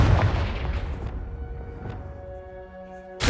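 A Confringo fire-blast spell explodes in Hogwarts Legacy, a loud booming burst that decays into a ringing magical tail before a second sharp hit at the end.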